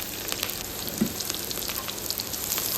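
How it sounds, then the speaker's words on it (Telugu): Green chillies and curry leaves frying in a pan for a coconut rice and country chicken dish give a steady, close crackling sizzle with scattered pops, alone without talk. "ఇంకా దీంట్లోనే కట్ చేసి పెట్టుకున్న పచ్చిమిర్చి, కరివేపాకు కూడా వేసేసుకుని బాగా ఫ్రై చేసేసుకుందామండి"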